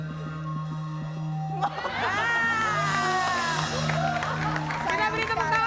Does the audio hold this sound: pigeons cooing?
no